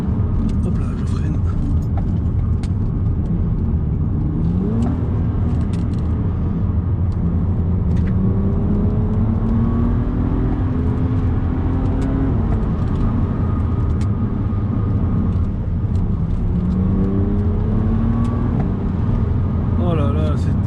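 A BMW Z4 35is drives and accelerates on the road with a loud, steady engine rumble and rising and falling revs as it shifts, heard from inside the cabin, with people talking over it.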